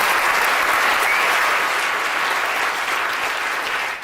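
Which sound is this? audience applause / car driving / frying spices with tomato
audience applause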